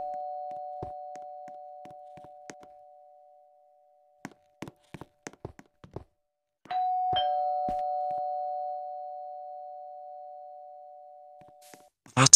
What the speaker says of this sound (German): Hier ist eine Klingel. Ich hab geklingelt.